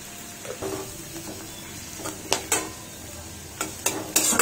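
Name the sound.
vegetables frying and being stirred in a pan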